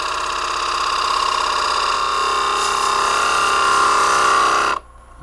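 A lathe tool cuts spalted oak in a steady, sustained hiss and whine riding over the motor's drone for several seconds, then stops abruptly near the end.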